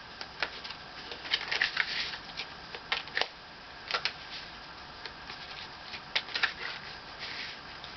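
Tarot cards shuffled and pulled from the deck in irregular bursts of quick, crisp riffling and soft snaps, close and fairly quiet, with brief pauses between handfuls and no voices.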